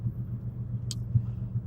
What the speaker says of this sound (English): You probably hear the car.